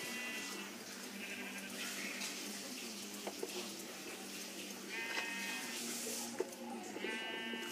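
Sheep bleating in the Minecraft video game, several short game bleats arriving in separate bursts over a steady low background hum, with no talking.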